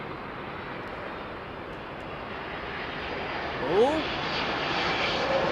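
An airliner lands at London Heathrow Airport in a light crosswind, its engines a steady broad roar from a distance with a brief swell near the end, while a person speaks over it.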